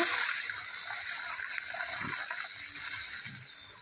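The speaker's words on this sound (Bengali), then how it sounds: "এবার আমি জল দিয়ে দেবো জল দিয়ে দিচ্ছি" Water poured into a pan of sautéed potato and spice masala while cooking a sarputi fish curry with potato and eggplant, a steady close gushing pour lasting throughout with no talk.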